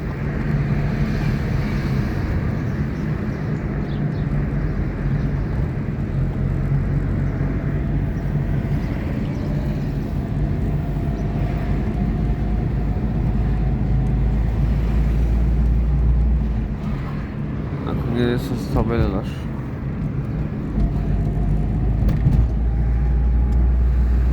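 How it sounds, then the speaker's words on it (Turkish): Heavy road traffic fills a busy street in Karaağaç, near the port gate, as a steady loud roar of passing vehicles with wind noise, broken briefly by a tonal horn or siren-like sweep partway through. "Çok yoğun bir trafik var."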